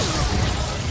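A Reducto blasting spell from Hogwarts Legacy bursts out as a brief, dense roar of noise lasting under a second, loud and close with no pause in it.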